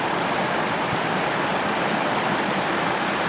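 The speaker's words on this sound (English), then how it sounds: "Just crossed Alder Creek" Alder Creek rushes beneath a small trail bridge in the Sierra backcountry, a close, steady broadband wash of flowing water with no pauses.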